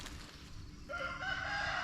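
Chickens in a backyard garden make clucking and rooster-like calls, a steady cluster of close fowl sounds that grows louder and more tonal in the second half.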